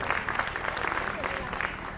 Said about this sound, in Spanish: este aplauso para usted